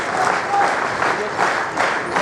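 Loud, sustained applause from a gathered audience at a National Voters Day ceremony, steady clapping that swells slightly in waves, with faint voices mixed in.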